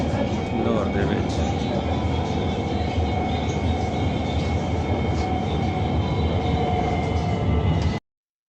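An Orange Line metro train in Lahore rumbles steadily from start to finish, a loud, continuous rolling roar close by, with voices murmuring beneath it.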